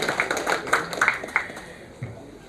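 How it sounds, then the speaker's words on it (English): Applause from a seminar audience at a session on IT/ITES policies and ESDM opportunities in South Gujarat: a thin scattering of claps for about a second and a half, quickly dying away to near silence. "huge round of applause for Mr. Videy Khare"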